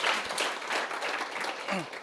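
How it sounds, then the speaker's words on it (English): Audience applause fills a room at the close of a panel discussion on post-election youth perspectives, a steady wash of many hands clapping at moderate volume for about two seconds, with no talking over it. "let's just please give our discussants another round of applause"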